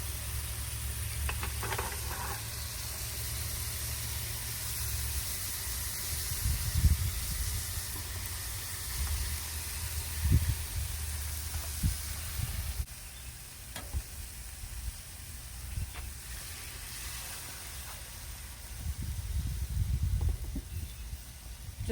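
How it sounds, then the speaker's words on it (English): Water steaming and sizzling in a pressure cooker on a butane stove, a steady hiss with soft intermittent bubbling pops and clinks, close by, with no talking. "I'm going to keep adding water to this so that I'm always steaming"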